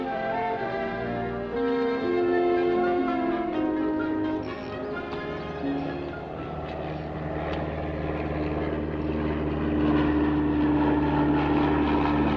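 A propeller airplane drones overhead, a sustained loud engine hum with shifting pitch across the whole stretch, no voices.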